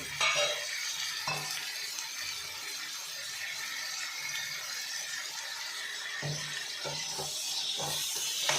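Tomatoes with salt and turmeric frying in a pan for a capsicum tomato gojju, with a soft continuous sizzle and repeated scraping clinks of a spatula stirring, close and fairly quiet.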